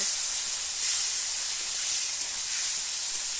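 Cashew paste sizzles in a pan while paneer cooks, giving a steady, close, broadband hiss of frying that holds even throughout, with no voices.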